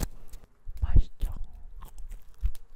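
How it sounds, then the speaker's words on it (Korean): Hotteok, a Korean sweet pancake, being bitten and chewed close to the mic, with a few soft crunchy bites and mouth sounds in short irregular bursts, under faint background noise. "호떡을 먹어보겠습니다."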